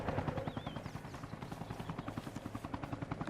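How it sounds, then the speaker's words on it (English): A helicopter lifts off inside a video game, its rotor chopping in a steady, loud, evenly spaced pulse that persists throughout, with a faint whining tone briefly rising above it. "I hear the sound of a heli taking off"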